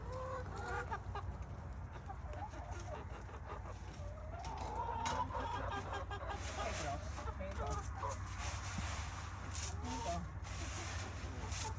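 Hens clucking steadily near a farm feeder while they wait to be fed, a continuous low chorus of overlapping calls with occasional louder squawks.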